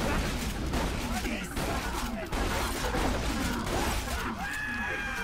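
Rapid gunfire from a weapon in the video game Borderlands 2 crackles in dense bursts over game sounds and effects, loud and continuous, with no one speaking.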